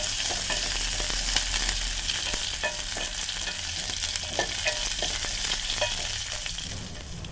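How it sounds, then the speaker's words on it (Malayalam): Drumstick leaves sautéing in hot oil for a Kerala-style chammanthi, giving a steady, close sizzle and fry hiss throughout with occasional light scrapes of a spoon stirring them, no voices. "ഇനി അതും കൂടെ ചേർത്ത് വീണ്ടും ഒന്ന് വഴറ്റി കൊടുക്കാം."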